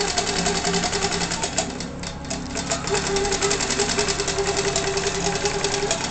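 Q-Bot robotic quilting machine stitching a pattern across a quilt, a loud, rapid, steady mechanical chatter of the needle with a motor hum, close and continuous without speech.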